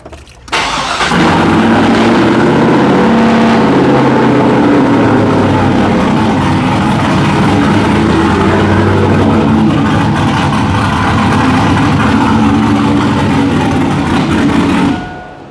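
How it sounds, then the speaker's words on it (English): Loud truck engine with full exhaust fires up and roars continuously for about fifteen seconds, deep rumbling idle with revs rising and falling, close and dominant, cutting off sharply at the end. "How do you get it that loud with full exhaust?"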